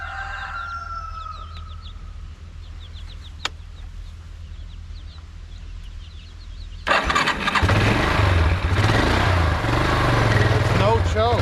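A small gasoline engine on an off-grid homestead is cranked with the choke partly set and catches about midway, settling into a loud, steady running drone; a rooster crows in the background beforehand.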